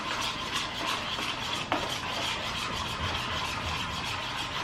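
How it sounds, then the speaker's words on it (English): A spoon stirs a sauce with brown sugar in a dish for chicken lo mein, making soft scraping and swishing under a steady background hiss, with one brief clink midway. "And I'll mix it with some brown sugar to make it a little bit sweeter."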